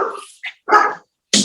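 Pet dog heard indoors, giving a few short, sharp barks and yips spaced apart, loud and close with brief silences between them.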